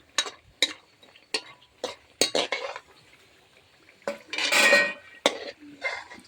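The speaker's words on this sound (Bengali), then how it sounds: "বড়িটা ভাজা বসিয়েছি বড়িটা তুলে নিচ্ছি" Lentil dumplings (bori) frying in a pan are lifted out with a metal utensil, making a run of sharp scrapes and clinks against the pan, and a short burst of sizzle partway through.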